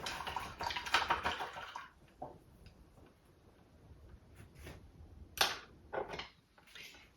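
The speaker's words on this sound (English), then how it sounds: "the next thing I'm going to do is rinse this brush out" A paintbrush is swished and rinsed in a water container, with a brief burst of sloshing, a quiet pause, then a few more short splashes and clinks close by.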